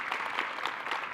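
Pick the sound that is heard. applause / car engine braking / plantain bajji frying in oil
applause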